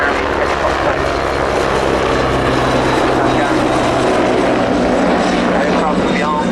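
A military torpedo-carrying helicopter flies at the RAF Cosford Airshow, producing a loud, continuous rotor and engine roar that fills the whole stretch with no letup, under a commentator's voice.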